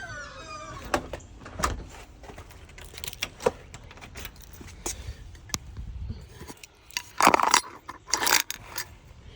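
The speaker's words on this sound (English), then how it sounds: "I'll lock the front door." A house's front door is locked: keys jangle, the latch and door clack in scattered sharp knocks and scrapes, close by, with a busier cluster of metallic clatter near the end and no speech.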